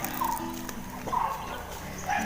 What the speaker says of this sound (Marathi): कुत्रा आला बघा कोणतरी.